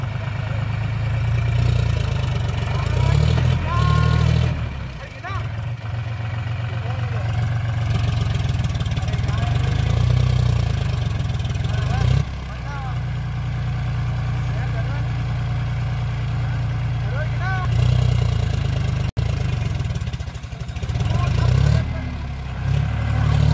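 A tractor engine runs steadily throughout, a loud low mid-pitched chug with a few brief dips and swells in revving, while voices talk over it.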